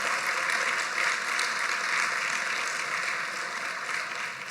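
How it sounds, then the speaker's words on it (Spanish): A church congregation applauding during a sermon, a steady broadband wash of clapping sustained at moderate level for several seconds without a break. "Claro, si aplaudir, aplaudamos"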